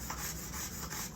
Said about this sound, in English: And maybe a scraping sound.